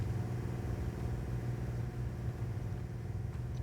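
A generator runs in an enclosed basement in the video game Hell Is Us, giving a steady, loud low engine rumble with a throbbing pulse that continues unbroken throughout.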